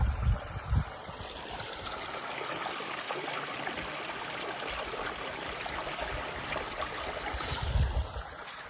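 Water runs steadily along an irrigation channel in rural Konkan, a continuous rushing, trickling wash that stays alone and fairly close, with a few louder splashes near the start and end.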